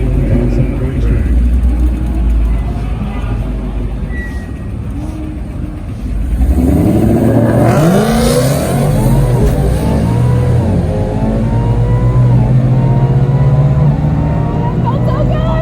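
A 2019 Mustang drag racing at a racetrack, heard as a loud engine roar and rising revs building midway and carrying on, with an announcer talking over it throughout.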